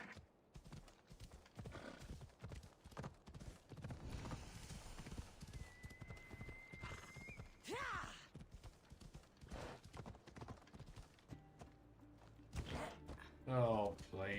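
Hooves clip-clop in an uneven walking rhythm in Assassin's Creed Odyssey, with a horse whinnying briefly and faint creaks; a voice murmurs lightly underneath.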